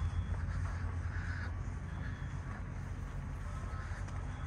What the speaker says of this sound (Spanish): Ahí se escuchan los grillos en la noche. Bueno, los pájaros.